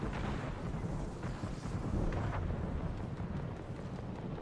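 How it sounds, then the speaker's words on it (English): Bangalore's airstrike in Apex Legends pounds the ground as a continuous, heavy rolling rumble of overlapping explosions, dense and loud throughout with no voices. "Sounds like Bangalore just called in an airstrike"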